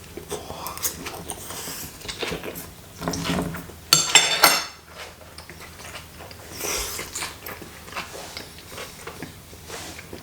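Someone eating a bite of grilled venison with red onion and red paprika: soft chewing and crunching close up, with a clatter of cutlery against a plate in the middle.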